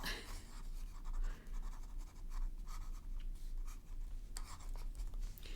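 A Franklin Christoph fountain pen with a custom-ground double broad BB nib and black ink draws over painted blotches on paper, giving close, quiet, scratchy strokes in an irregular rhythm with no talking.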